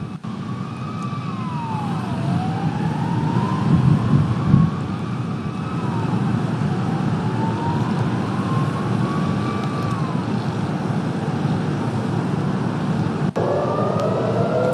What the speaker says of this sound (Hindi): तेल अबीब इस वक्त सायरन से गूंज रहा है